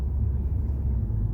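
A Honda car engine with a misfire and rough running, heard from inside while driving and shifting through the gears, a low steady rumbling drone, close and fairly loud, with no talk over it.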